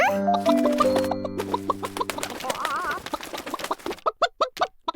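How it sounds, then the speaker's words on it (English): A cartoon hen clucks in short, rapid bursts, growing louder and choppier toward the end, following a stretch of background music. "Why are you crying, little hen?"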